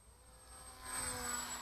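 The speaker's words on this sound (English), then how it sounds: "Here's the sound of the Bixler going past." A Bixler RC model airplane flies past outdoors on a slightly windy day, its faint, high electric-motor whine swelling briefly as it nears the microphone.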